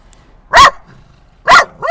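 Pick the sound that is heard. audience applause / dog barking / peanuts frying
dog barking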